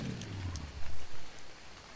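Rain falls in the video game ARK: Survival Evolved, a soft steady hiss of drops with a few low rumbling thumps, fairly faint overall.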